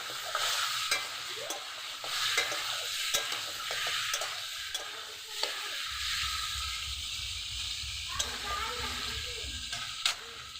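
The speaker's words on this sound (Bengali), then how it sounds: "বেশি ভাজবো না, হালকা করে ভেজে নেবো যাতে আস্তে গন্ধটা চলে যায়।" Chicken frying lightly in a pan for a chicken and cauliflower curry, with a steady soft sizzle and occasional stirring scrapes and clicks over roughly ten seconds, and some speech around it.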